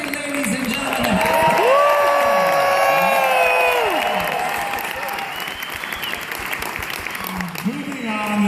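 Audience applause with some cheering fills a comedy show by drag performers in 2015, rising to a loud sustained peak and then tapering while a voice talks over it.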